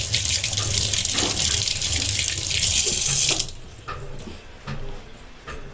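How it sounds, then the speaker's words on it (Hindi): A tap runs with a steady close splash as hands are washed with soap, then the flow stops, leaving quieter dripping and small handling sounds. "हाथ धो लिए मैंने साबुन से।"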